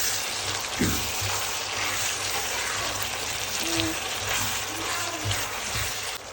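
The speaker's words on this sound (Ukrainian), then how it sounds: "І трошечки обсмажуємо томати." Tomatoes fry in a pan for a shrimp dish, giving a continuous broad sizzle with a few soft knocks from the pan or utensil underneath.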